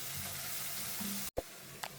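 Onions, garlic and freshly ground pepper sautéing in a pan, a steady hissing sizzle close by, broken by a brief cut to silence and a small stirring clatter.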